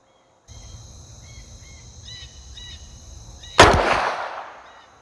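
A single loud gunshot from an 1873 Winchester firing a 158 grain Freedom Munitions .357 Magnum load at an outdoor range, cracking sharply and echoing away after chirping birds or insects in the quiet background.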